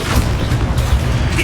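Confringo spell blast in Hogwarts Legacy, a heavy, booming rumble with low thuds, loud and sustained through the moment.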